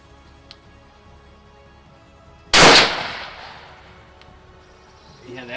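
A single loud rifle shot fired outdoors during a shooting-accuracy check, a sharp blast with a decaying tail, surrounded by quiet ambient background.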